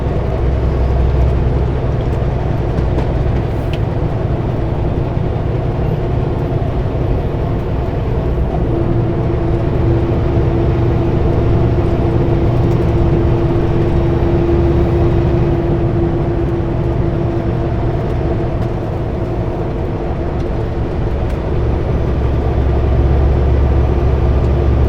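A loaded truck engine drones steadily while climbing a hill on a Canadian highway, with a continuous loud rumble and a steady whine. No one speaks.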